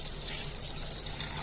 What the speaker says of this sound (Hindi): 4 कप पानी डालेंगे,